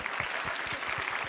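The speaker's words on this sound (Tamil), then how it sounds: "மீண்டும் உங்களை வந்து ஜோடி மிகப்பெரிய கைத்தட்டலோடு வரவேற்கிறேன்" Studio audience applause greeting a dance pair on a Tamil television dance competition show, a steady broadband wash of clapping with low rhythmic thumps running through, loud and continuous, no voices over it.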